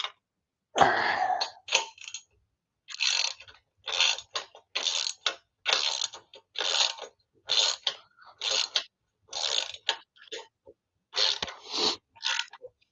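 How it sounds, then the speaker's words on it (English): A wrench and socket turning a bolt, a string of short, scraping ratchet clicks in quick, evenly spaced strokes separated by brief pauses, close and clear against a quiet background, with no talking. "If I can keep my actual wrench and socket on it."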